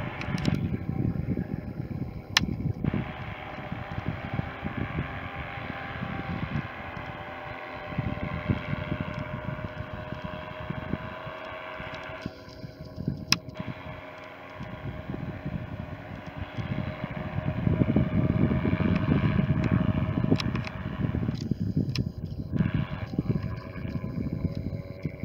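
Engines of powered hang gliders flying overhead on an evening in the Yorkshire Dales near Penhill, a steady low motor drone heard amid wind noise and rising louder toward the end.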